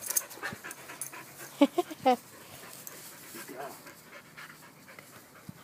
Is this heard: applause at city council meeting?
no